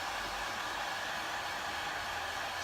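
A cheap $9 blow dryer set on low, drying paint on a glass ornament, gives a steady, even airy whir that holds constant throughout, close and alone.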